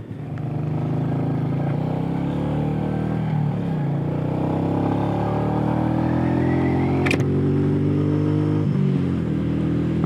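A Royal Enfield Meteor 350 motorcycle being ridden, its steady engine drone loud and close throughout, rising gradually in pitch as it accelerates, with wind noise and a brief gear change partway through.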